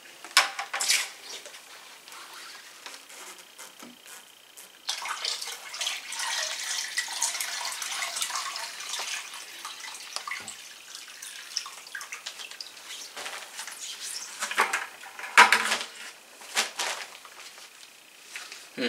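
Water pours and splashes steadily into a small reef aquarium in bursts, with clinks and gurgles, close up and fairly faint.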